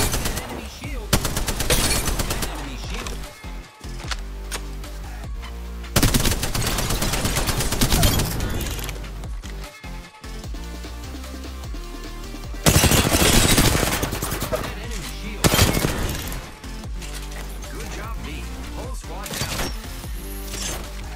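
Rapid automatic gunfire in the Apex Legends video game, loud and dense, with sustained bursts and brief pauses throughout over a constant rumbling game backdrop.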